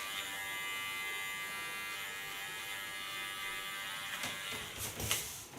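An electric hair clipper buzzes with a steady, close, high-pitched hum as it trims hair ultra short, with brief scraping bursts toward the end and no talk.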